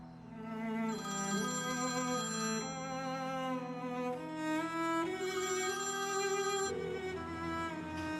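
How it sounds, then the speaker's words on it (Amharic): A phone rings with a melodic electronic ringtone, a continuous tonal tune repeating its phrases steadily for several seconds with no talk over it. "ስልክሽን አንሺው"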